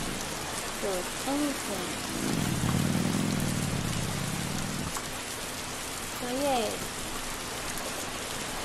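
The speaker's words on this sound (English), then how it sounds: "I'm actually going to turn off the rain, because it's actually really annoying." Steady rain hisses across a Roblox Bloxburg night scene, a constant wash with a low rumble swelling midway, while a person speaks briefly and a few short melodic chirps sound over it.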